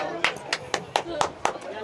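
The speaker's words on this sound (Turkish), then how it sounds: "Sen niye alkışlıyorsun amca?" A man claps his hands, six to seven sharp, evenly spaced claps close by over a couple of seconds, with faint background murmur.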